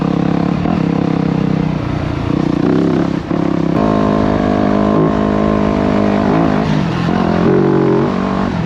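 Motocross dirt bike ridden fast on its first outing, with a loud, close engine roaring and revving continuously, pitch climbing and dropping through gear changes, no talking.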